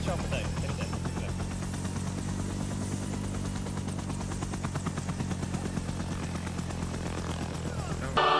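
Helicopter in the military video game ArmA 3, a steady rotor and engine drone that runs the whole time under people talking loudly over each other.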